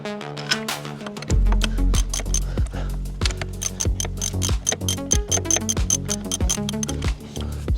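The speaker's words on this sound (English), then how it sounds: "it's just using the extension with the socket on the end, just so you got more grip" A socket wrench with an extension tightens a bolt on the front brake caliper of a Toyota Hiace, producing rapid bursts of sharp ratchet clicks up close over background music.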